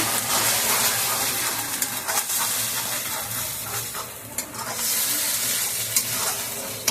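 Ground chili and cumin paste sizzles and sputters in a hot pan as it is stirred, a continuous close frying hiss broken by scraping and brief dips in loudness.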